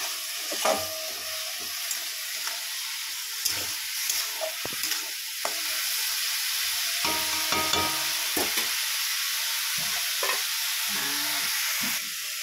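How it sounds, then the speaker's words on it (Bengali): Spinach greens stir-fry in a hot pan, with a steady close hiss of sizzling oil broken by frequent scraping stirs and spatula knocks throughout, no one talking. "শাক ভাজা।"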